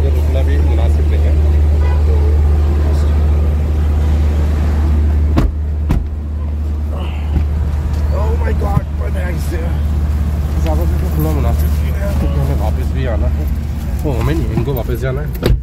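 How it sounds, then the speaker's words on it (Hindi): A car drives along the road from Lagos airport to Lekki, its steady engine and road rumble heard from inside the vehicle, loud and constant, with someone talking over it throughout. "हम वापस गाड़ी में बैठते हैं और बस निकलते हैं"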